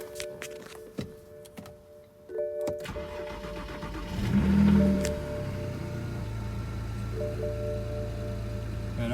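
A BMW 335i being rebuilt after a wreck, its engine knocking hard, cranks and starts about two seconds in, then settles into a loud, steady running drone close by with no one talking.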